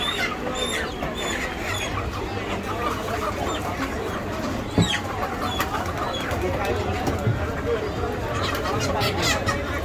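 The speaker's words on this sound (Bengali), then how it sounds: "হাঁস মুরগির মার্কেট" Dense poultry market at Tongi with ducks and chickens, a constant busy wash of clucking, squawks and bird calls mixed with crowd chatter and voices throughout.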